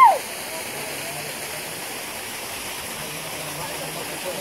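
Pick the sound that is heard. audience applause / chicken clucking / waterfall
waterfall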